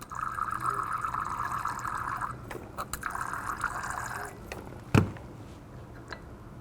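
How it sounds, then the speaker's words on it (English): Water being added to a flask during a recrystallisation in a chemistry lab, a steady filling trickle with a hollow ringing tone, followed by a sharp knock and a few faint drips, no talk. "Just going to add a bit more water."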